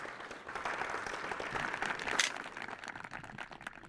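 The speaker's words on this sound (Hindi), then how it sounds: "जोरदार तालियां बजती रहनी चाहिए कम से कम।" At a farmers' forum event, an audience applauds a farmer being honored, fairly faint, distant clapping from many hands that swells slightly midway and then thins out, with no talk over it.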